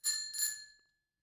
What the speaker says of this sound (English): ring your bell at them to get out of the way